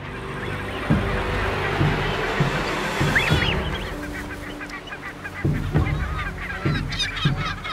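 Lesser black-backed gulls call repeatedly with harsh, honking cries over a constant low rumble, some calls near and loud, others fainter.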